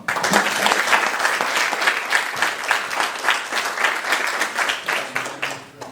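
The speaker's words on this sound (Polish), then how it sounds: "wielkie brawa" Audience applauding at the opening of a jazz festival in Pińczów, a dense, steady round of clapping from a sizeable crowd that carries on for several seconds before thinning out.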